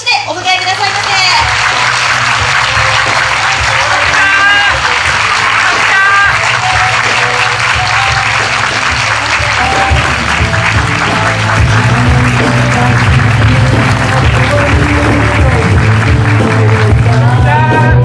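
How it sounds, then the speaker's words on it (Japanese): Loud, continuous applause from a crowd welcoming actors and a director onstage at a film event for the horror movie Ju-on in Shinjuku, with a voice speaking over the clapping throughout. "どうぞ大きな拍手でお迎えくださいませ"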